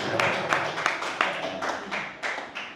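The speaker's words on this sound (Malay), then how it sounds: "Bagi tepukan dulu" A small audience clapping at an Amway marketing plan talk, a sparse few claps in a loose irregular rhythm, fairly soft and set back in the room.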